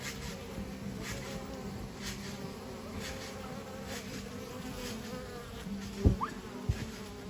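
Bees fly around a hive outdoors, a steady low insect buzz that stays close and continuous, with a few brief louder knocks near the end.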